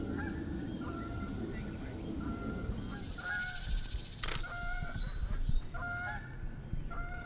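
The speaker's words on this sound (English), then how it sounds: "a lot of bird noise in the background and some birds on the lake" Geese honk repeatedly over a steady low background rumble, several calls overlapping at moderate distance, with a brief sharp noise midway.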